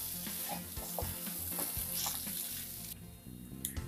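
A spoon stirs mashed potato and spices in a hot pan, scraping in steady repeated strokes over a continuous close sizzle, loud and alone with no voices.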